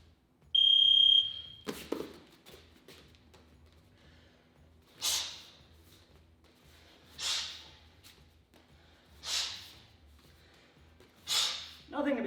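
A workout timer alarm beeps in one sharp, loud electronic tone near the start, followed by quiet breathing and several rhythmic puffs of exertion.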